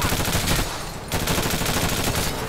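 Rapid automatic AK rifle fire in a video game, loud and continuous, with a dense stream of close shots and a short break near the middle before the firing resumes.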